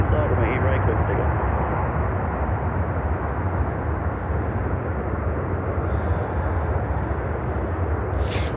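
Delta airliner on its takeoff roll from runway 8 right, a loud, steady, broad jet engine roar that holds constant at close range throughout.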